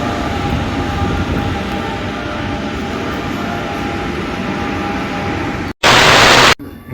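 Lyon metro line A train at Perrache station, a steady loud rolling rumble with hiss that runs continuously, then a brief burst of bright broadband noise near the end.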